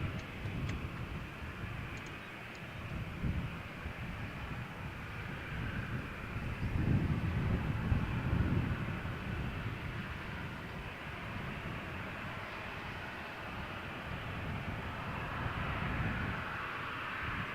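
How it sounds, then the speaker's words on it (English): A Jet2 airliner taxiing for takeoff at Malaga Airport on a stormy morning, heard as a continuous broad engine rumble and roar mixed with wind, swelling slightly midway and holding steady throughout. "Jet 2 flight from Malaga to Birmingham is now also taxiing for takeoff"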